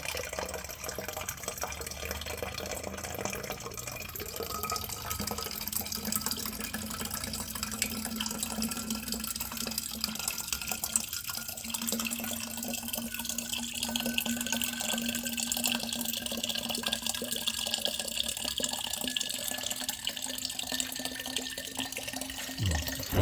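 Water runs from a tap into a container being filled to the one-liter mark for spraying orchid fertilizer, a steady trickling splash with a faint tone that rises slowly as the vessel fills.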